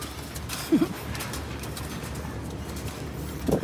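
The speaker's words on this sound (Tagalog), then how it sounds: "Ito yung mga ibon natin par." Soft low cooing calls from pigeons come twice, once early and once at the end, over a steady background hiss.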